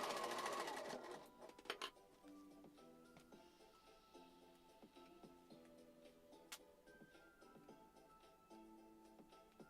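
Sewing machine stitching in short bursts with a steady mechanical ticking rhythm, fairly quiet and close, with brief pauses between runs and a louder clatter at the start.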